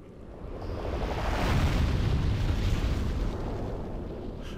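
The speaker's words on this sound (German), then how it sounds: "Ach, so schlimm ist der Explosionsradius gar nicht." Explosion in the video game Demon's Souls, a deep rumbling blast that swells over a second or two and then rolls on as a broad, sustained roar before slowly easing, with no talk over it.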